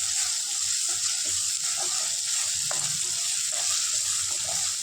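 Drained soybeans sautéing in a hot pan, a loud continuous sizzle with scattered pops and the occasional scrape of stirring, steady throughout with no talking.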